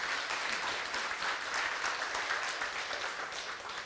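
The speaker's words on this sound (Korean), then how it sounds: "다시 한 번 더 청 교수님께 큰 박수 부탁드리겠습니다." Sustained audience applause at a Korean Buddhist academic conference, dense even clapping from a crowd filling the room, steady and moderately loud from start to finish.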